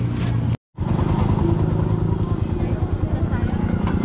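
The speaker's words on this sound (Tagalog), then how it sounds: "Pag umalis yung polis, balik din yung mga motor." Motorcycles return to a spot once the police have left, their engines a loud continuous drone with a pulsing rhythm close by, broken by a brief dropout near the start; speech mingles with the engine noise.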